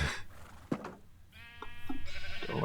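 Sheep on a farm bleating close by, a few short calls followed by a longer wavering bleat that rises loudly toward the end, with no talking.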